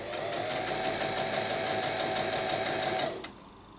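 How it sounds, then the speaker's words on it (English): A sewing machine stitches close to the fabric edge in a fast, steady, evenly pulsed whir that runs loud and near for about three seconds, then stops abruptly. "Then I'll start stitching it close to the edge."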